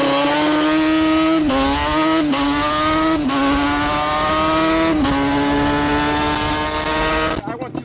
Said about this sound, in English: we're racing this RC car right now